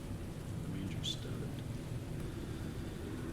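Thunder rumbles low under steady rain, a continuous storm wash with one brief crackle near the start and no clear voices.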